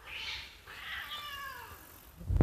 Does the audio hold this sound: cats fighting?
yes